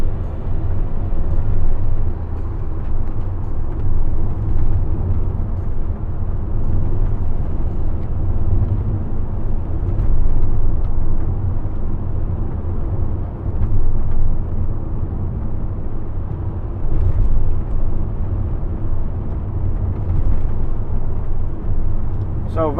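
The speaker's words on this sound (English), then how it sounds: "So van's up to temperature now, drives great" A 2015 Toyota ProAce 2.0 HDi van drives along, its diesel engine and road roar forming a steady, loud low drone heard from inside the cab, with someone talking over it.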